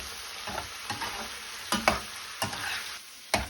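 Wild fuki stems being stir-fried in a pan, a soft steady sizzle with intermittent scraping and clacking strokes of a utensil, close and fairly quiet, no talking.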